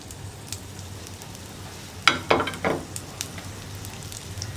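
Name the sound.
ginger, onion and green chili frying in hot coconut oil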